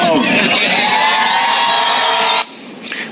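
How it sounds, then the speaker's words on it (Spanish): A loud crowd cheers and shouts close by, in a sustained roar of whoops and yells that cuts off abruptly, followed by quieter scattered noise. "Un aplauso al diputado."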